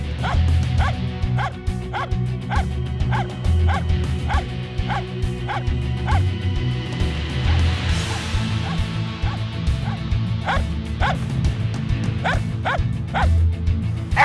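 A Finnish Spitz hunting dog barks at a bird in a tree in a sharp, rapid, evenly spaced series of loud yips. The barking is close and nearly continuous, with a short break midway.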